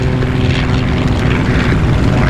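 A propeller-driven RV homebuilt airplane takes off during busy departures at EAA AirVenture Oshkosh, its engine a loud, steady drone that fills the whole stretch with no break.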